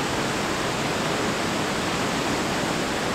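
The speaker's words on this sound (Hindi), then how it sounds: "Let me just show you कितना सुंदर है ये वाटरफॉल।" Aharbal waterfall in Kashmir in winter roars with a steady, dense rush of falling water, loud and continuous throughout with no voices over it.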